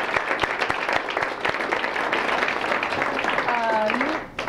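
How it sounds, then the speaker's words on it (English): Audience applause at the close of a Transatlantic Speaker Series talk with Ambassador John Kornblum, a steady round of hand clapping from a modest crowd with scattered sharp claps, tapering off near the end. "So please give them a round of applause"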